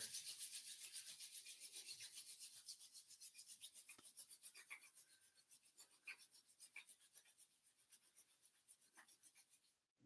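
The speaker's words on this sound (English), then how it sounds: "And rub the hands together." Hands rub briskly together during a hatha yoga flow, a soft, rapid, evenly pulsing swishing that continues for about ten seconds at close range in an otherwise quiet room.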